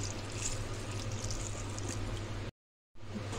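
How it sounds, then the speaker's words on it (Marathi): A continuous rush of water, one glass, pours steadily into a pan of potatoes and drumsticks for a few seconds, broken by a short moment of silence. "याच्यामध्ये 1 ग्लास पाणी टाकूया।"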